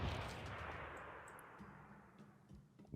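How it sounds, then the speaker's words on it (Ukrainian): A bombard unit fires in Civilization 6, one heavy booming artillery shot with a rumbling decay that fades over a few seconds, loud at first and alone without talk. "Так, бомбарда. Стріляй туди."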